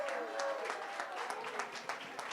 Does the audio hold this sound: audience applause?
yes